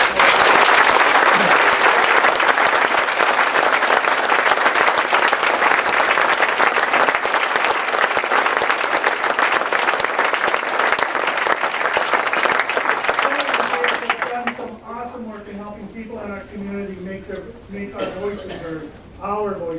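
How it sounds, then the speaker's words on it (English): An audience claps loudly for about fourteen seconds at the closing remarks of a health care event, then the applause stops abruptly and a voice starts talking. "Let's give them a round of applause."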